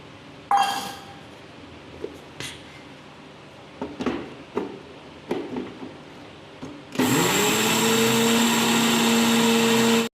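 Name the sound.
mixer grinder grinding roasted coriander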